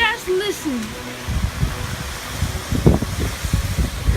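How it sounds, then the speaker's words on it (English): Strong wind in Southern California near LA buffets the microphone in rough, uneven gusts that roar and rumble up close after someone briefly speaks. "The wind's getting stronger and stronger."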